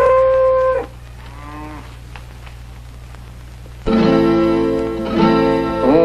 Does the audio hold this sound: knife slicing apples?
no